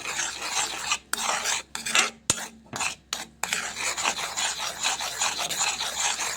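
Milk being stirred in a pot while making ghee, a steady scraping and rasping of a utensil against the metal, close and continuous with a few brief pauses and no talk.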